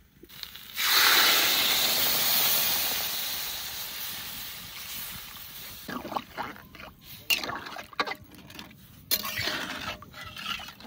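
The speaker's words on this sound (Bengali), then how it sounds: "আদা দিয়ে আর একটু ভেজে নিয়েছি আলুগুলো, এবার জল দিয়ে দেবো" Water poured into a pan of potatoes frying with ginger paste bursts into a loud hissing sizzle. The hiss slowly fades, then gives way to irregular clinks and scrapes from the pot.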